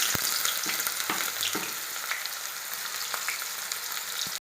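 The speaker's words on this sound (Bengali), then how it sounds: "এবার আমি পেঁয়াজটা দিয়ে দেবো তেলের উপরে" Chopped onions frying in hot oil with caramelized sugar for a meat ghugni with green peas: a steady close hiss and crackle of sizzling, with occasional light clicks of stirring, at low level and without speech.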